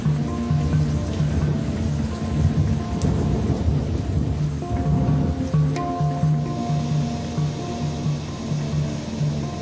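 Steady rain with low rumbling thunder rolling through the Amazon rainforest, a continuous wash of noise with a few brighter cracks and drips.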